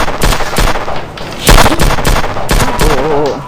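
Rapid gunfire in a shooting video game: a string of loud, sharp shots in quick bursts, close and punchy, with a few faint tonal game effects between them.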